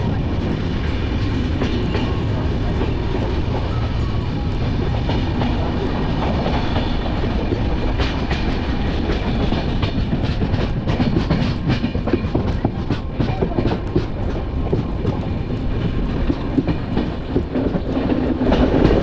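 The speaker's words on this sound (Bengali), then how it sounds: "ট্রেন ছেড়ে দিয়েছে আমাদের" The Jammu Tawi Express train runs on rails bound for Kashmir, with a loud, continuous rumble and rhythmic clickety-clack of wheels over rail joints, heard from on board and steady throughout.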